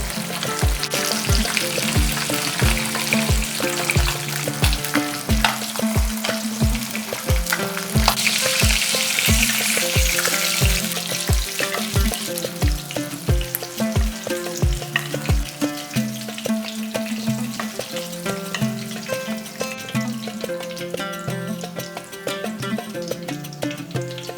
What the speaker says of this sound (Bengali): মাছটা একটু হালকা লাল করে ভেজে নিয়েছি, এরপর তুলে নেব।